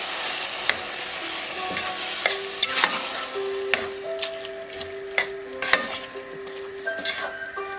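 Vegetables cooking in oil, ghee and yogurt are stirred in a pan, with a steady sizzle, scattered scrapes and taps from the utensil, and a few faint tonal beeps in the background, close by with no speech.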